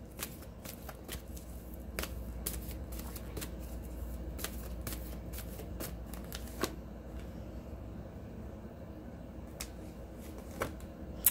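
A deck of playing cards is riffled and shuffled repeatedly, sharp flicking bursts scattered over a soft steady shuffle, close and fairly quiet with no talking.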